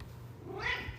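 A pet cat at a camper lets out a loud, drawn-out meow up close, a single insistent call over low background hum.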